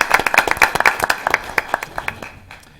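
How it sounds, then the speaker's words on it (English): People at a school board meeting give a short round of applause. A modest number of hands clap in quick, distinct strikes that fade out over about three seconds. "we want to give her a round of applause for doing that"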